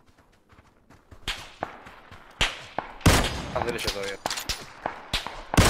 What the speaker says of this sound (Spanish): Ahí se escuchan los disparos